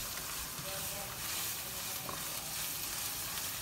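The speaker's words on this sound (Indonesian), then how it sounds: "tumis sampai harum" Spices sauté in a hot pan for rica rica beef shank, producing a steady, close, dense sizzle with no talking.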